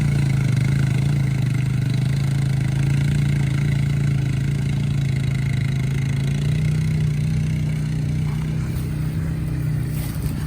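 Honda Rancher 420 ATV from 2021 on 30-inch BKT tires, its engine droning steadily at a constant mid pitch while driving through mud, close and continuous for the whole stretch.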